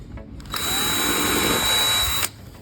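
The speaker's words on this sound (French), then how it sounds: "Je pré-perce simplement la caisse." Power drill pre-drilling a wooden frame for mounting a canvas, a single steady high-pitched whine lasting under two seconds that starts and stops abruptly, close by with no talk.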